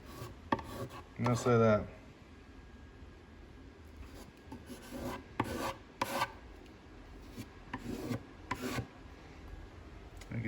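Filler compound with a drywall-like consistency is pushed and smeared into a gap, producing scattered soft rubbing and scraping strokes in short bursts, close and fairly quiet, with a brief spoken remark.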